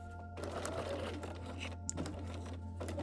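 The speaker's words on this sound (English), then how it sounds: "So now I'm going to take it to the sewing machine and stitch all the way around over here" A sewing machine stitches fabric for a costume tabard in a steady, fast mechanical whir, close and continuous, with brief pauses as the stitching stops and restarts.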